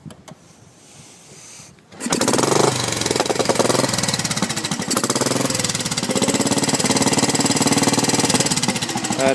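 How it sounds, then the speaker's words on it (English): A warm single-cylinder motorcycle engine with solid valves, lifters and pushrods fires up after a quiet start and settles into a loud, steady, close thumping idle with rapid mechanical valve clatter running underneath. "It's got solid valves, lifters. You can hear the clacking."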